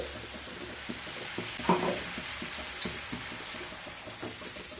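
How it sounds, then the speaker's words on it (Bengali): Spices, tomato paste and the water used to rinse the spices cook down in a pan for a Bengali mustard pabda fish curry, giving a steady close sizzle with soft stirring scrapes and one brief louder clatter partway through. "এবার খুব ভালোভাবে কষিয়ে নিয়ে তারপর ফিরে আসছি।"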